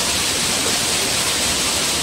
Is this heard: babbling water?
yes